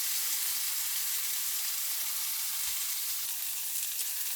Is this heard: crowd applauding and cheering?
no